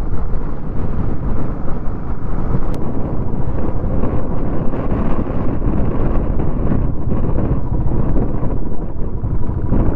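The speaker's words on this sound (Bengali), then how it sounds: "বিশাল হাওয়া দিচ্ছে।" Strong wind roars across a high mountain pass in Ladakh during a motorcycle ride, a loud, steady, broadband rush buffeting the microphone for the whole stretch with no voices.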